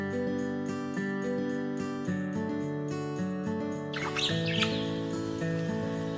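Parakeets at a zoo chirp in quick, bright bursts, growing busier partway through, layered over a steady tonal hum in the background.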